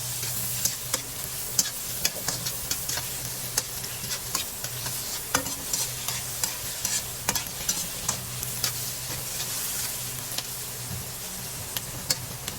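Mushrooms stir-fried with onion in a pan for a kangkong dish, a steady loud sizzle with frequent scraping and clacking stirring strokes throughout, no talking.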